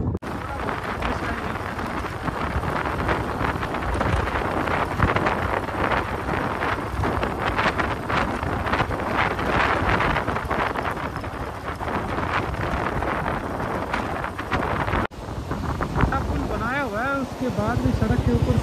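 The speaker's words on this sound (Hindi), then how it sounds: "हवा बड़ी तेज़ चल रही है" Strong wind blows in Spiti Valley in the Himalayas, buffeting the microphone with a continuous loud rushing roar. The gusts dip briefly near the end, then return, and no one talks.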